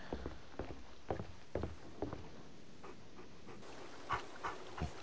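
A dog pants in The Walking Dead video game, giving quiet, rapid, breathy puffs in steady bursts with faint soft steps behind them.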